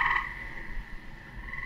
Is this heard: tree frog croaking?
yes